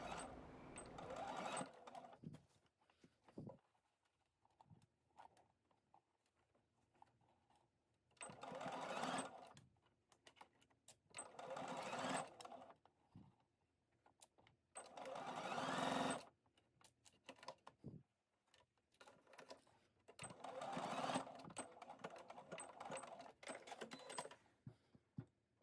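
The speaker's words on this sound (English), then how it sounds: "then continue sewing at 5/8 seam allowance" A sewing machine stitches a seam at a 5/8 seam allowance for a pinafore, running in several steady bursts of whirring stitches separated by short quiet pauses, heard close but fairly soft.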